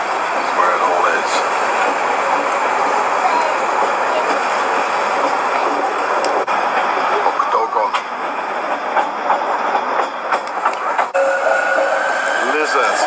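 Train rumble and rail noise at Basel train station, a steady broadband roar throughout with occasional clanks and squeals, while someone talks over it.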